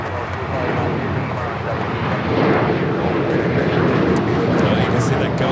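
A heavy airliner on approach to runway 25 right at LAX gives a loud, continuous roar of jet engines, building slightly as it passes.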